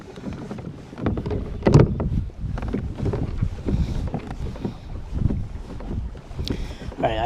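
Pedal kayak gliding on water with the current, a steady low wash of water and hull movement mixed with wind buffeting the microphone, continuous and close throughout.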